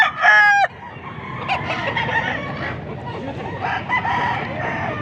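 A seven-month-old stag crows loudly and close at a busy poultry market in Angeles City, Pampanga. Softer clucks and distant crowing from other young roosters follow amid a faint crowd murmur.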